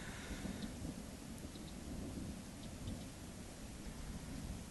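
Faint, distant thunder rumbling low and continuous over soft rain on open moorland at Dartmoor, quiet and without voices.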